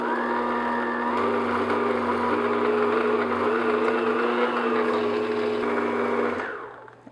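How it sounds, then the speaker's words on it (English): An electric mixer runs at medium-low speed blending dry cupcake ingredients in a bowl, a steady close whir lasting several seconds before winding down and stopping. "And now I'm just going to mix all those together, just like medium-low speed."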